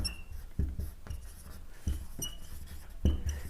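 Chalk or marker strokes on a classroom board, a series of short scratchy taps and scrapes in an uneven rhythm, close and fairly quiet.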